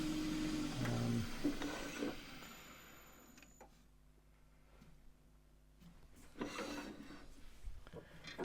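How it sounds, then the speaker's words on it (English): A gouge cuts elm wood spinning on a lathe, a steady close rubbing, scraping tone that fades in the middle and then returns with sharper bursts toward the end. "A cleaner cut off the gouge."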